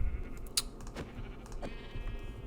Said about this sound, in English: Baby sheep, we'll leave that.